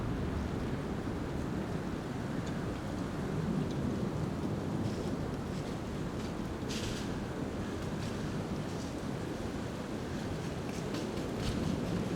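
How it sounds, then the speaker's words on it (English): Wind gusts outdoors during a November deer hunt, a constant broadband roar buffeting the microphone for the whole stretch with no voices. "Wind's picking up again."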